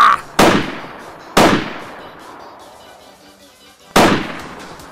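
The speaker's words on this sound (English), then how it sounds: "That was some terrible shooting." Three sharp gunshots from the DayZ video game, each a loud single crack with a long fading tail. They come at irregular intervals with quiet gaps between them and no talking.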